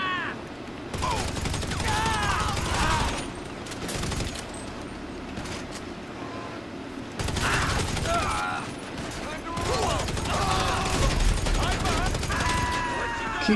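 Gunfire and explosions from tanks in the GTA Online video game, a steady dense barrage of shots and booms running throughout with brief lulls, mixed under game effects and voices talking over it.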